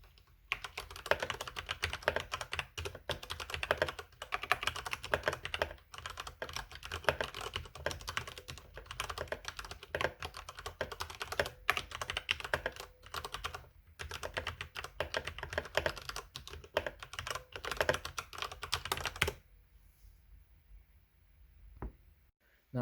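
Dense, steady typing on a computer keyboard, fast clattering keystrokes close up for about nineteen seconds before stopping into near silence, recorded as a keyboard acoustics test.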